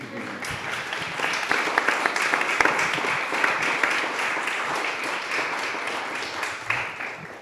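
Audience applause fills the room at a talk on food and reconciliation: dense, steady clapping from many hands, held at an even level throughout with a few sharper claps standing out.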